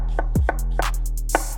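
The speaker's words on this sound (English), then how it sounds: "we're just gonna do some chops." A knife chops onion into thin slices on a cutting board, a handful of sharp, close knocks spaced unevenly over a steady low background hum.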